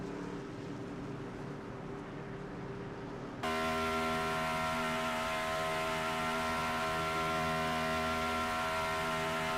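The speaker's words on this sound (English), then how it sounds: "Really high-pitched sound from this truck. This is an iRacing glitch" A truck in the iRacing sim racing game at Homestead, Florida gives out a steady, piercing high-pitched tone from a glitch. It cuts in abruptly partway through and stays loud and constant over the engine drone.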